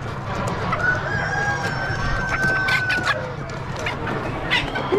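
Bantam chickens clucking and a rooster crowing at a busy Amish animal auction, with a long crow stretching across the middle and scattered clucks over constant crowd and barn noise.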